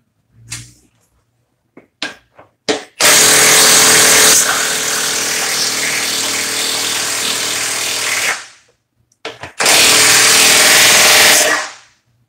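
A cordless impact driver runs in loud, sustained bursts under heavy load, a harsh high rattling hammer lasting several seconds, then stopping and starting again after a few short clicks and taps.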